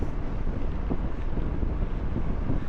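Headwind roaring across the microphone while mountain biking on the Great Divide route, a dense, gusty buffeting rush that fills the whole moment, with no voices.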